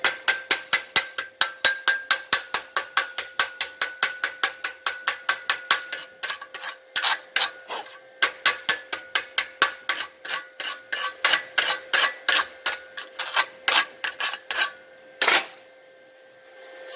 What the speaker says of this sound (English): Shouldn't have to hammer your slag this hard.